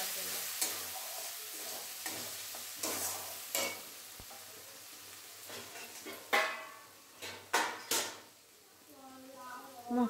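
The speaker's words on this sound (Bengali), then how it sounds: "তারপরে দেখো মশলাটা প্রায় কষিয়ে এসেছে," Spice paste for a vegetarian broccoli dish frying and being stirred in a pan, with bursts of sizzling and scraping strokes at an uneven rhythm, close and fairly quiet between louder stirs.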